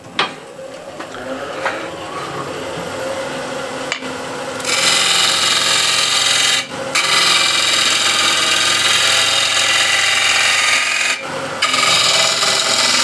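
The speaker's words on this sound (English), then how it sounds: "So I'll just quickly shape the ball here." A ball shape being worked onto the end of a wooden tenon. Softer rubbing gives way to a loud, sustained abrasive rasp close by, broken by a couple of brief stops, with no voices.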